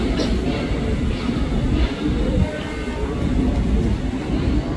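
A KRL Commuter Line train arriving at upper-level Manggarai Station, Jakarta, rumbles steadily nearby with a heavy low roar and faint rattling, continuing without a break.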